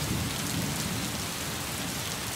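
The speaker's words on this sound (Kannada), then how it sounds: "ಮಹಾರಾಷ್ಟ್ರದಲ್ಲಿ ಭಾರೀ ಮಳೆಯ ಅಬ್ಬರ ಮುಂದುವರಿತಾ ಇರುವಂತದ್ದು" Heavy monsoon rain pours down in Maharashtra as a dense, continuous, even roar of falling water, loud and unbroken with a low rumble beneath, and no one speaking.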